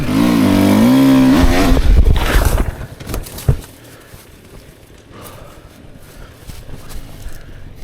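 A 2024 Beta 300 RR Race Edition two-stroke dirt bike on an unfamiliar trail, revving loudly and rising in pitch up close, then dropping to a rougher, quieter running with knocks and bumps.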